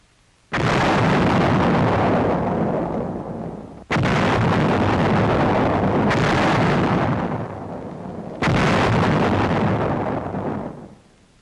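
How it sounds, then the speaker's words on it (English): World War II land mines detonated in groups of 10 to 20 produce three long, heavy explosive roars, each sustained rumbling blast fading before the next begins. "The mines are set off 10 to 20 at a time."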